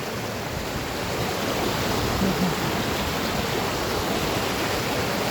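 Heavy floodwater after a night of rain surges past a bridge jammed with washed-up logs and timber, a steady loud broadband rush with no break.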